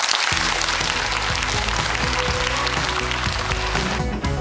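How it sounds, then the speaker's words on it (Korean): Korean television quiz show studio audience applauding an eliminated contestant, clapping spread under loud music that plays throughout. "격려의 박수 한번 부탁드리겠습니다"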